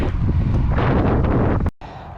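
Strong wind roars over the microphone while cycling outdoors, a loud, continuous buffeting rush that cuts out abruptly near the end, then resumes.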